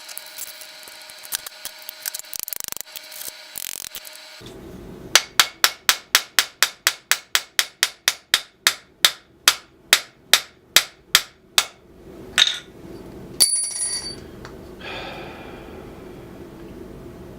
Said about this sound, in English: we'll reinsert the pins and peen them over